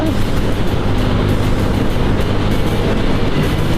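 Loud, steady roar of a Honda Wave 125 motorcycle riding along a busy highway, with engine drone and rushing wind filling the whole stretch without a break.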